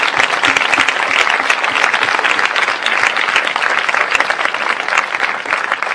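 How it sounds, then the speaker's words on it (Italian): An outdoor audience at a film presentation in Parco della Cervelletta gives Massimo sustained, dense applause, loud and even for the whole stretch, with no voices above it. "Un applauso per Massimo."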